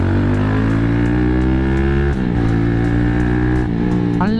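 A Kawasaki Z200 motorcycle fitted with a new sprocket pulls hard under acceleration, its loud close engine note climbing in pitch, dropping briefly at two gear shifts, then rising again.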